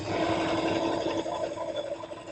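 A sewing machine runs steadily while stitching a quilt seam with a couple of back stitches, a close, continuous rapid whirring with a slight change in pace partway through.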